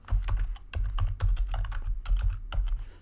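Rapid keystrokes on a computer keyboard, entering variable declarations in program code: close, steady clatter in short bursts of clicks with brief pauses between them, no voices.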